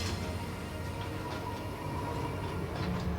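Eastern & Oriental Express luxury train rolling along, a steady low rumble with faint rhythmic clicks and rattles of the carriages, continuous and moderately quiet.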